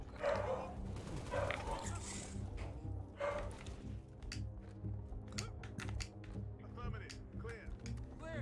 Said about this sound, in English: I hear dog barking downstairs too.